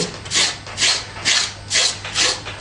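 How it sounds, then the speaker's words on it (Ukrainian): Sandpaper rubs over a small rocket motor part in six even back-and-forth strokes, each a close, bright rasp with brief pauses between. "Щоб приклеїти, беремо наждачну шкурку."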